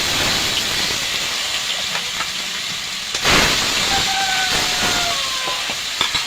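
Fish sizzles in hot oil in a home kitchen while it is fried for a light eggplant curry, giving a steady, loud hiss with brief crackling spurts throughout.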